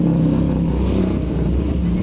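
A Honda Beat motor scooter engine runs with a rough, droning idle, loud and close, steady with a slight uneven pulse and no talk over it.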